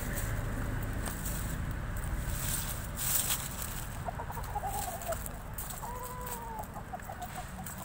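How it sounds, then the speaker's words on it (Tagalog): Fighting cocks at a cockpit in Bonbon, Oslob, Cebu cluck and crow repeatedly over a dense outdoor background, with several birds calling near and far. "ditong binabae na manok pansabong tulad nito."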